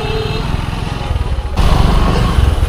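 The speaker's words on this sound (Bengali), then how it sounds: "ফাইনালি ভাইয়ের বাইকটা স্টার্ট উঠেছে" A motorcycle engine runs after finally being started at dawn in Mirpur, a loud, close, steady rumbling idle that jumps up in level partway through, with no talking.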